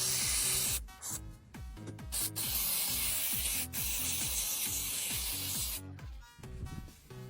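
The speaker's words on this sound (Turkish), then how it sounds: "Bir şişe karbüratör temizleme maddesi ekle. Temizlemeye başla." Carburetor cleaner hisses loudly from a spray can onto carbon deposits in a car engine, in long near-continuous bursts with brief pauses, mixed with rubbing and a repeating low mechanical hum.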